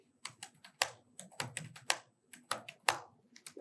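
Quiet clicking of a computer keyboard as a short prompt is typed, bursts of keystrokes coming in an uneven rhythm with brief pauses, close and fairly soft, no talking.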